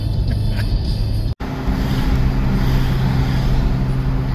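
Heavy holiday highway traffic rushes past on a Friday near Payson, heard as a continuous loud roar of tyres and engines from inside a moving vehicle, with one brief dropout.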